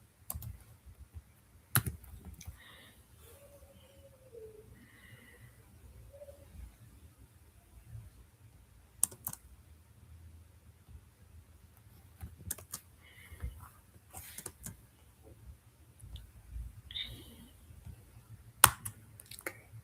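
Python code is typed on a computer keyboard in a quiet room, with sparse, faint key clicks in short bursts separated by pauses and the odd sharper tap.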